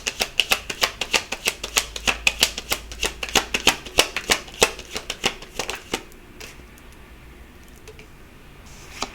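Tarot cards are shuffled in a rapid, close train of crisp riffling clicks for about six seconds, then the flicking stops and only faint rustle remains.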